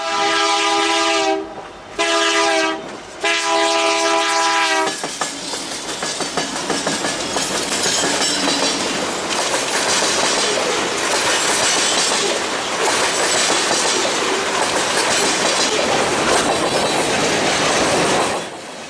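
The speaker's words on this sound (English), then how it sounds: "The sound of the wheels on those rail joints is something that can make a rail fan really feel at home." A local freight train rolls past at track speed, its horn sounding in short blasts before the wheels take over with a loud, steady clickety-clack over the rail joints, heard close and without talk.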